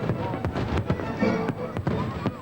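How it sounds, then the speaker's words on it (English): Fireworks display at the EuroDisney theme park, with a rapid series of sharp bangs and crackles at middle distance over a constant rumble. A voice speaks under the explosions. "The firework displays in the park are spectacular"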